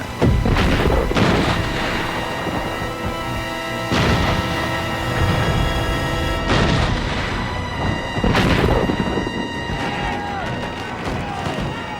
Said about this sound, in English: Over their heads, the naval guns kept up a barrage of fire.